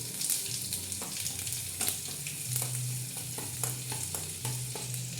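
Cumin, mustard seeds and garlic paste fry in hot oil with a steady, close sizzle, punctuated by crackles and pops and the scrape of stirring throughout.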